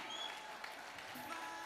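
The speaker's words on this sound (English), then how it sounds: "Let's give a big round of applause," Applause from an audience at a premiere celebration, a steady wash of clapping heard at a distance, faint and continuous with no voices over it.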